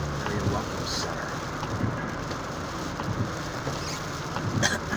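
Rain patters steadily on a vehicle driving into Iowa during an April snowstorm that has turned to rain, a continuous wash of drops with wind noise and road rumble underneath and no talking.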